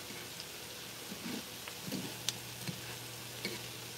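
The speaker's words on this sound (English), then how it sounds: "Y'all see these things sizzling in this skillet?" Salmon patties sizzle softly in a skillet, a steady fine crackle with occasional louder pops and faint clinks, quiet and close.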